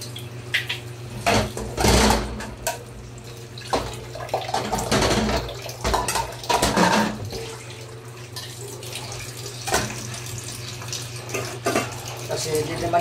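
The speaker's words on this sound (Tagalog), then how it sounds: "kailangan natin na hugasan ang pinggan, lalo na sa gabi" Dishes and cutlery are washed under a running kitchen tap in a sink, with water streaming in bursts, clinks and clatter of plates close by, and intermittent talking over it.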